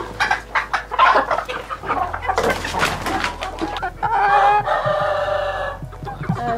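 A flock of about a hundred chickens clucks and squawks on a farm in the Italian Alps, a busy, close, overlapping chorus with a rooster crowing partway through and no talking.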